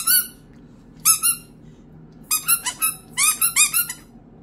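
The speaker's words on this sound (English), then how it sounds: "this is my squeaky ducky" A squeaky rubber ducky bath toy is squeezed during a baby's bath, giving loud, close, high squeaks in short bursts: single honks at first, then a quick run of repeated squeaks, with no talking.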